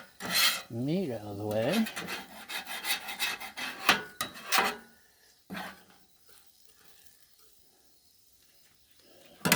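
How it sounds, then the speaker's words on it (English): A metal scraper rasps across a Blackstone griddle, pushing cheesesteak meat aside. It makes a run of close, gritty scrapes and clanks over the first few seconds, then things go mostly quiet. "we'll take our scraper and just scrape"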